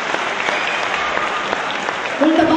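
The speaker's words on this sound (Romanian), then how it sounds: "Aplauze, da," Audience clapping at a freshman ball event, a dense steady patter of many hands close by, with a voice breaking in near the end.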